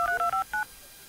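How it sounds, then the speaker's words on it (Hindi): A telephone keypad dialing a call to the police: a quick run of four or five clear electronic tones with short pauses, fairly quiet, followed by faint background. "सारे भी पुलिस फोन लगाओ थी।"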